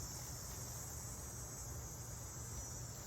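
Cicadas in summer buzz in a continuous, even, high-pitched drone. The sound is faint and unbroken throughout, with no voices.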